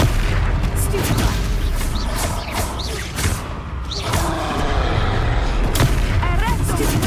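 Spell impacts from Hogwarts Legacy land in quick succession, loud booming bursts and magical whooshes layered over dense game sound, with a player calling out spell names.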